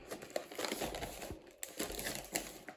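Food packaging being unwrapped at home, close, faint crinkling and crumpling of plastic with small rustles and tearing snaps over a few seconds.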